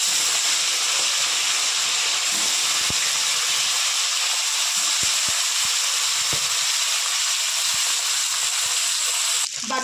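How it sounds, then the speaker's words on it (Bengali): Fish frying in a pan of hot oil, the leftover pieces going into the same oil after an earlier batch was fried crisp, giving a loud, steady, continuous sizzle with a few faint clicks and knocks beneath it. "ওই তেলেই বাকি মাছগুলো আমি ভেজে নেব।"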